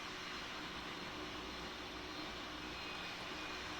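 An Emirates Airbus A380-800 taxis in the PTFS flight game, giving a steady, loud, unbroken jet engine roar with a faint whine, no talking.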